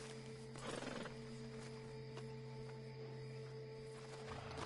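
Horses in Red Dead Redemption 2 give a short whinny and snort near the start over a steady hum of game ambience, followed by faint soft stirring.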